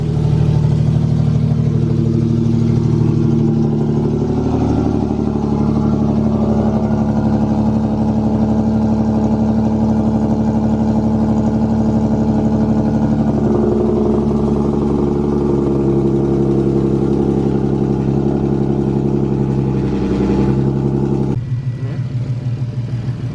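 An Infiniti Q50 idling with AMS Motorsport test pipes fitted, a loud, steady, deep exhaust rumble held close for over twenty seconds, dropping slightly in tone at the very end.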